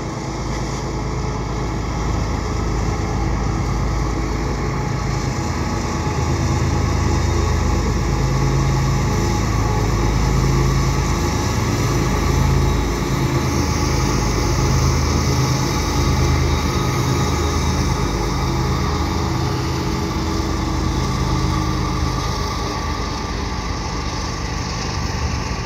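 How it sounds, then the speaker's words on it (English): A westbound CN freight train hauled by an ES44AC diesel locomotive passes with double-stack cars at Pullman Street on an evening, a steady heavy engine drone and rumble that swells midway and stays loud throughout. "This is a westbound CN freight."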